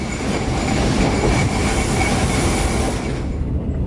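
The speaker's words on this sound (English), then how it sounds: "the opposite Ekspres Rakyat Timuran departs to JB Sentral first, before our turn for Tumpat." A Malayan Railway Ekspres Rakyat Timuran train departs toward JB Sentral, a loud continuous rumble of wheels and carriages with faint squeals, heard close and fading slightly at the end.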